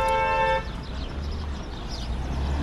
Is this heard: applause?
no